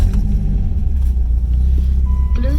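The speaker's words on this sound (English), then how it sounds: "Very, very nice sounding car here. You can hear the engine." A 2004 Dodge Viper SRT-10 engine idles with a loud, steady low rumble just after a push-button start, close and continuous, with a faint tone briefly audible near the end.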